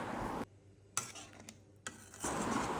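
Water is poured into a pan of sautéed tomatoes for pasta, giving a hiss and sizzle that cuts out, then returns in short bursts with faint clinks before a sustained sizzle at the end; quiet and close.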